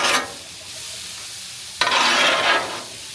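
Tortellini skillet with vegetables is stirred on a Char-Broil griddle: two loud spatula scraping strokes over the metal surface, one at the start and a longer one midway, with a soft sizzle between them.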